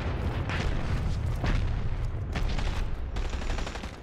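Grenade blasts in a shooter video game: a continuous rumbling roar with several heavier booming impacts layered over one another, loud and dense for about four seconds with no pauses.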